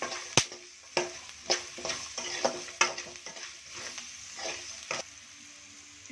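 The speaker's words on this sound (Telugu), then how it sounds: "ఇలా పచ్చివాసన పోయేంత వరకు వేయించుకొని గోల్డ్ కలర్లో రావాలి" Ingredients for mint rice fry in a pan with a steady sizzle, while a spoon stirs and scrapes, giving sharp knocks about once a second.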